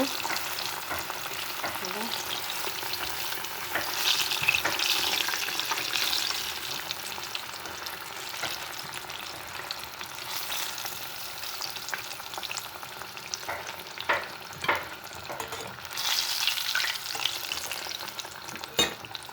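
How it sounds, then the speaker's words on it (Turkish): Atlantic bonito fish frying in a pan of oil, a continuous moderate sizzle with occasional louder crackles and spatters and a few utensil clicks, steady throughout with no speech. "Bakın balıklarımız kızardı."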